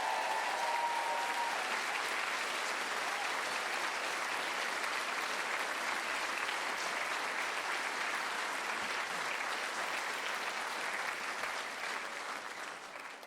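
Audience applause at a school's 60th anniversary celebration, a sustained, dense wash of clapping from a large hall crowd that holds steady and fades slightly at the end.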